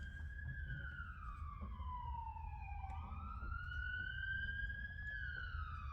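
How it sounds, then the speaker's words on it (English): A distant siren wails in long, slow rising and falling sweeps over a low background rumble of traffic. "Interesting with the sirens right there"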